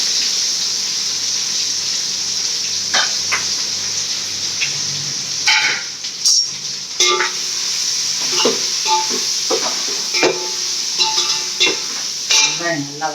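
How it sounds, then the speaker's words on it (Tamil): Onions and green chillies go into hot oil already spiced with cardamom for chicken biryani, giving a steady sizzle. Loud, irregular spoon scrapes and clatters against the pan come at intervals over the frying. "இப்போ எண்ணெய் காஞ்சிச்சு போட்டுக்கலாம். வெங்காயம் போட்டுக்கலாம்."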